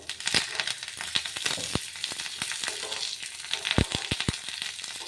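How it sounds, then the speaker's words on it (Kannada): Curry leaves and peanuts crackle and pop while frying in hot oil for a rice dish, sharp close pops and sputters bursting irregularly over a steady sizzle, with no talking. "ಇದ್ರ ಮ್ಯಾಗ ಸ್ವಲ್ಪ ಕರಿಬೇವು ಹಾಕೋಣ. ಚಟ್ಪಟೆ ಚೆನ್ನಾಗಿ ಆಗ್ತಾವೆ"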